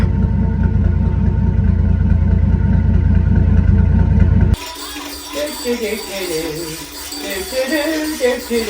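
The engine of a vehicle called Copper idles with a steady, loud mechanical drone for several seconds, then cuts abruptly to quieter sound with a voice talking.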